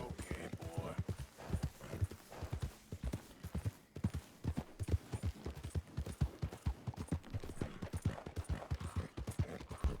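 Horse hooves clip-clop in a steady rapid rhythm in a video game, close and clear, with someone talking over the galloping gait throughout.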